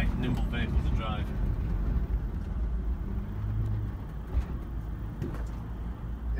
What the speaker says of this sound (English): Just a really nice, light, nimble vehicle to drive.